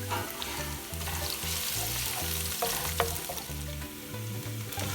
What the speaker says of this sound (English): add this onion, nicely brown this onion with some garlic